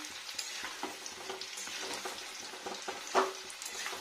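New potatoes frying in a pan for aloo dum with a steady crackling sizzle, broken by scraping stirs, one louder clatter near the end.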